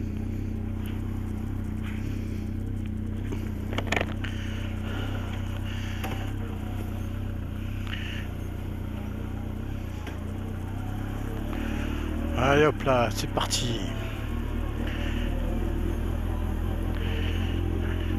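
A Honda CB1300 motorcycle idles with a steady low engine rumble, then revs and pulls away near the end. Someone speaks briefly over the engine.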